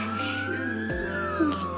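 An ambulance siren wails steadily at close range, its rising tone sweeping upward over a low rumble with no voices.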